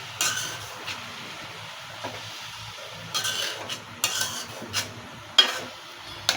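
Leafy greens are stirred in a pan with a utensil, giving scattered scraping and clinking strokes over a faint background hiss.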